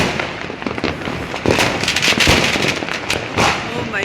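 A rapid, continuous crackle of a long, unbroken string of firecrackers bursting nearby, loud and dense, with sharper pops standing out throughout.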